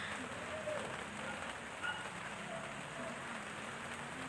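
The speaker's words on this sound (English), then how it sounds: "It's kind of raining, and I'm kind of outside as recording this." Steady rain falls outdoors as a soft, continuous hiss of drops on surfaces, fairly faint and even throughout, with no voices.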